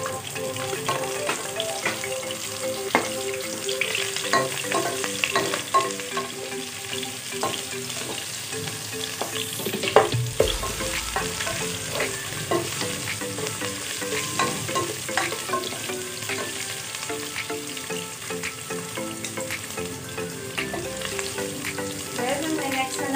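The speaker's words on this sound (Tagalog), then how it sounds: "So ilalagay naman natin ngayon ang onion." Onion going into a pan of garlic already frying golden brown for beef lomi, with a steady loud sizzle and scraping stir strokes throughout, no talking.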